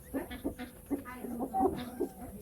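Chickens being fed quail meat cluck in short repeated bursts close by, a busy flock of overlapping calls.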